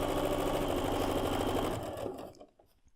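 A sewing machine stitching quilt block pieces runs at a fast steady whir close by, then slows and stops near the end.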